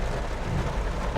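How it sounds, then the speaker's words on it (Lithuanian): Steady broadband hiss of rain beginning to fall outdoors during a long road trip, a constant wash with low rumble underneath, no voices. "Kaip lietus pradėjo lyt."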